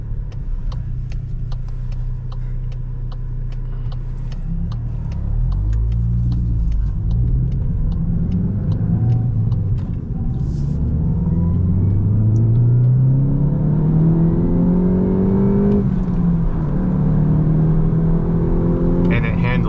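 A Volkswagen GTI (300 hp) with a Cobb Sport exhaust rumbles deeply and loudly as the engine revs and climbs in pitch, sustained and close, like driving under hard acceleration.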